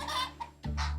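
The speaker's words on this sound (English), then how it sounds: "A chicken." A chicken clucks twice in quick succession, close and loud, with no other sounds around it.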